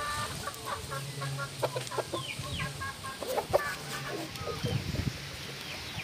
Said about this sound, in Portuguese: Frango da raça Laberruge.